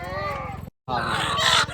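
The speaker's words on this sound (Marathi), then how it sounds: "कोंबडे." Roosters crow near a hilltop temple. Two loud, close, drawn-out calls are split by a short silent break.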